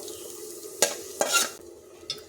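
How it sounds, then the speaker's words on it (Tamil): Onion and tomato sauté in oil under a quiet sizzle, broken by a few quick spatula scrapes and stirring strokes close by. "வெங்காயம், தக்காளி எல்லாமே சேர்த்து போட்டு நல்லா வதக்கிக்கலாம்"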